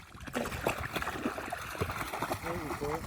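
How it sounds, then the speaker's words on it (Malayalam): A German Shepherd splashes and paddles in water, with scattered splashes and sloshing close by and voices talking throughout. "മാജിക് ഇപ്പോൾ വെള്ളത്തിൽ ചാടി."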